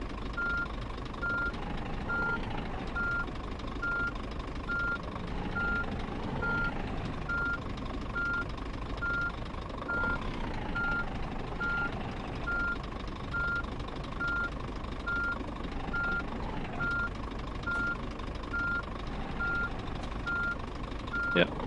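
A livestock truck in On The Road Truck Simulator backs up, with a steady string of reversing beeps repeating over a constant engine drone for the whole stretch.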